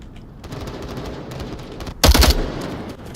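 Gunfire in an Onward VR video game match: scattered distant shots and rattling bursts build to a loud, close volley of several rapid shots near the end.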